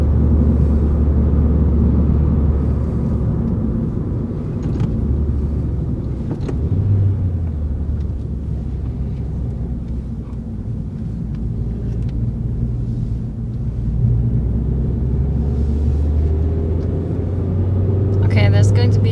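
A 2012 Suzuki Swift Sport driving through corners, heard from inside the cabin as a steady, loud low engine and road rumble that holds throughout with only small swells.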